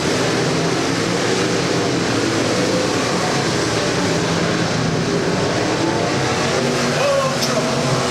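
Dirt track race cars at Springfield Raceway run several wide on a Saturday night Ozark-style oval, their engines a dense, steady roar that stays loud and unbroken throughout.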